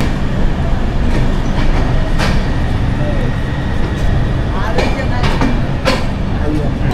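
A passenger train on the Gaya route toward Mathura rolls along with a constant loud rumble from inside the carriage, marked by occasional sharp rail clacks and squeals.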